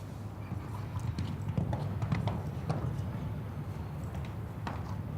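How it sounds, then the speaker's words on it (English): Hooves of a show jumping horse clip-clopping in an outdoor arena during a 1.50 m grand prix jump-off, a rhythmic soft thudding beneath steady crowd and arena ambience. "Real athletic type of horse, you can see."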